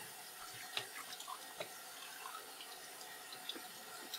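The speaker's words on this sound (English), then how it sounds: "I'm just going to take them and run them underwater." Guitar sides, wood, run under a running tap in a luthier's shop: a quiet, steady hiss of flowing water with occasional small splashes and drips.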